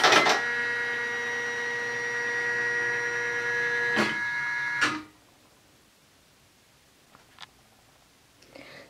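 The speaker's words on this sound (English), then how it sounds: "It's going to give you a dialog box to tell you to keep your hands clear, cartridges will move now" Janome MB-4S embroidery machine at power-up, a steady electronic motor whine with a clack as the cartridge shifts, then a second clunk and near quiet with faint ticks.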